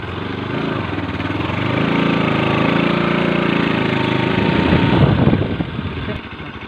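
A motorcycle engine idles near a village waterfall by Chandubi lake, a steady, rumbling putter that swells slightly louder midway and holds close and continuous, with faint voices mixed underneath.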